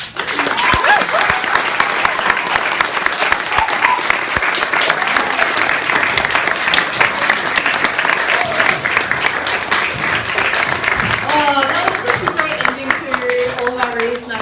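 An audience claps for a poetry performance with loud, dense applause that lasts the whole time, and voices and cheers rise over it now and then.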